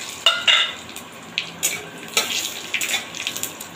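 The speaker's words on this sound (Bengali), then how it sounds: "এবার ওই তেলেই আমি ফোড়নে দেব গোটা জিরে," Whole cumin, garam masala and bay leaves hitting hot oil in a home kitchen, giving a series of short crackling sizzle bursts with soft clinks of a utensil against the pan, no voices.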